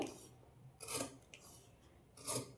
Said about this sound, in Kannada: ಈ ಥರ ಕಟ್ ಮಾಡಿಕೊಂಡು ಈ ಮೂಲೆಗಳಲ್ಲಿ ಕಟ್ಸ್ ಹಾಕ್ಕೊಳ್ಬೇಕು.